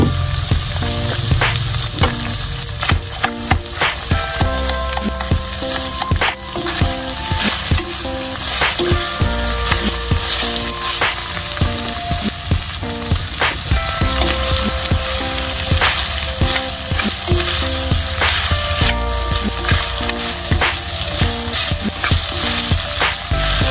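Garlic frying for menudo in a pot, a loud steady sizzle lasting the whole stretch with occasional scrapes and stirring clatter, no voices.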